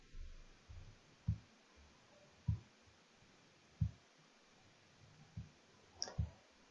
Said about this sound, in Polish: Rozwiązujemy ją klikając w odpowiednie pola.